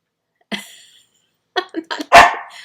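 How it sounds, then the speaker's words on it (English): A dog barks indoors, one sharp bark followed after a pause by a quick run of three or four barks ending in a louder, longer one, fairly close and with no talk over it. "Now the dog's barking."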